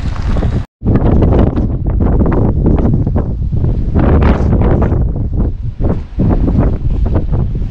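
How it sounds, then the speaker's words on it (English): Wind and rain batter a fishing boat off Bermuda in foul weather, a loud, unbroken roar of gusts buffeting the microphone with a brief dropout near the start. "the weather is horrible, but we're here fishing. Yeah, it's raining and windy"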